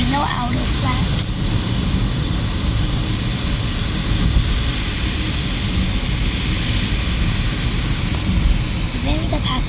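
A steady, loud airplane engine drone with broad roaring noise fills the whole stretch, heard in a Roblox flight simulator game as the aircraft taxis toward the runway.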